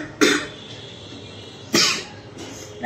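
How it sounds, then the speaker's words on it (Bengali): Someone coughs while cooking: three sharp, close coughs spaced about a second apart, separated by quiet background. "রান্না করতে কাশি হচ্ছে।"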